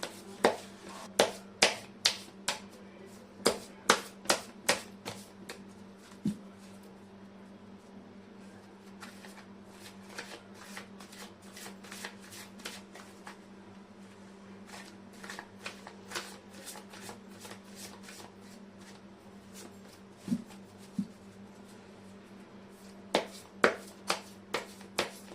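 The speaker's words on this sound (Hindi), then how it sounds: "कर लेती हूँ कार्ड की शफलिंग।" Tarot cards are shuffled close up in repeated bursts of crisp riffling clicks and slaps, with pauses between rounds, over a faint steady background hum.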